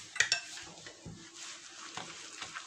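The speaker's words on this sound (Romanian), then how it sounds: "Amestec să se omogenizeze bine." Cream cheese being stirred with mayonnaise and grated black radish in a bowl: soft, faint scraping and tapping of a utensil in irregular strokes, with a couple of sharper clinks near the start.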